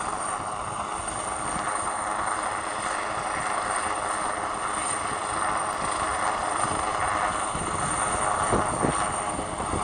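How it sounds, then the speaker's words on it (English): A rescue helicopter hovers over the cliffs at Beachy Head during a winch rescue, a steady distant rotor drone with faint pulsing, mixed with constant wind buffeting the microphone. "They've just winched someone off the side of the helicopter."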